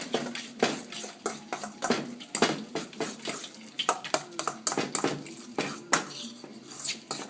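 Guacamole with basil, onion, garlic and lime juice is stirred and mashed in a bowl, with repeated clinks and scrapes of utensil on the bowl in an irregular rhythm and no talking.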